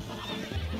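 A horse in the Red Dead Redemption video game gives a short whinny right after being punched from behind, heard close and fairly quiet within under a second, with faint hoof clatter and no voices.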